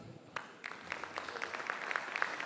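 Audience applause at a conference stage event in Venezuela, a steady spatter of claps swelling over a couple of seconds, fairly quiet and heard from within the room.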